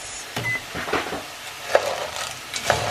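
Piñon nuts tossed and stirred as they roast in a dry pan, with intermittent soft scrapes and light rattles spaced across a quiet, steady background.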